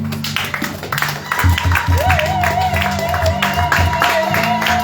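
A church congregation gives a sustained round of applause and cheering for the Lord, with a steady wash of clapping over sustained organ or keyboard tones and a wavering sung or shouted note.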